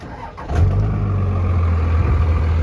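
A Cummins diesel farm truck engine cranks briefly and catches, settling into a loud, steady low rumble close by with no talk.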